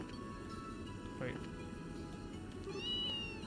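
A cat meows in the video game Trails in the Sky, two short meows heard clearly over game music while people talk.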